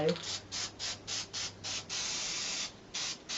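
An aerosol can sprays silver paint in a quick series of short hissing bursts, followed by one longer spray and a few more brief puffs, close and clear.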